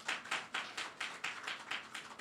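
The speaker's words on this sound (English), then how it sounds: "Let's give him a round of applause." Faint applause from an audience, heard as a steady run of rhythmic claps about four per second, quiet and somewhat distant throughout.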